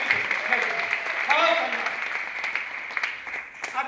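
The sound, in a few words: seminar audience clapping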